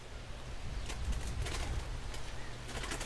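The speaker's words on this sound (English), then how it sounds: "Got the doves in there." Doves coo faintly in a feeding area, soft low calls under steady background noise, with no voices.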